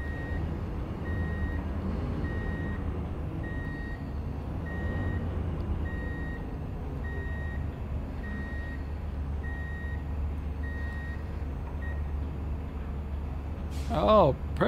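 A licensed Scandinavian truck in Truck & Logistics Simulator backs up with evenly spaced reversing beeps over a low engine rumble, steady for about twelve seconds before a brief air-brake-like hiss at the end; a player talks over it.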